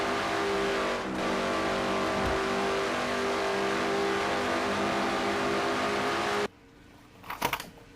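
Race cars roar around the Brickyard 400 in a sim racing game, a loud sustained engine drone from a pack of cars that cuts off suddenly, followed by a brief quieter whoosh.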